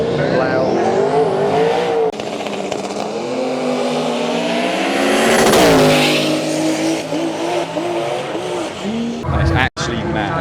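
Drag race cars roar past on a quarter-mile strip at around 150 mph, a loud close engine howl that swells and fades with a sweeping pitch change, tire noise and a voice partly audible under it.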